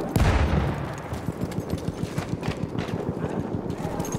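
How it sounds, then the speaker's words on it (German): Gunfire in the video game Battlefield 1, starting with a heavy boom and then a fast, regular string of sharp cracks, like a machine gun firing at steady volume throughout. "Ich höre hier nämlich Schüsse."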